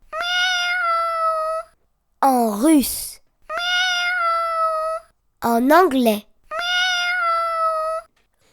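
A voice imitating a cat gives three long, drawn-out meows, each broken up by short spoken phrases, all close and clear against silence.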